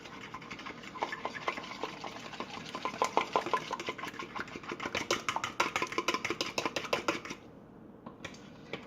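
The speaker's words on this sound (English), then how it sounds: "Take the same bowl and fork that you used for the flour. Mix that shit up." An egg and flour being mixed with a fork in a bowl, rapid rhythmic scraping and tapping close up that builds, then stops near the end.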